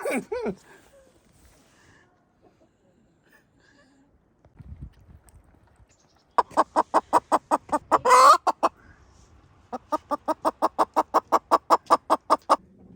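A chicken, likely one of the roosters being moved, clucks in rapid, evenly spaced bursts, loud and close, with a short squawk midway and quiet stretches before.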